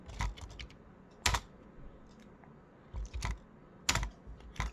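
Computer keyboard keys clatter while someone types C code, in short irregular bursts of clicks separated by brief pauses, close up and moderately quiet with no talking.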